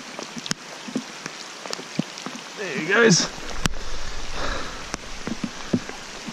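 Rain patters steadily on water and gear while fly fishing the Ngongotaha Stream in New Zealand, scattered drops ticking close by as someone speaks briefly and a burst of handling noise rises midway.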